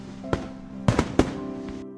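Fireworks burst at a school festival in a visual novel sound effect: three sharp, loud bangs in quick succession, each trailing off into a crackling rumble.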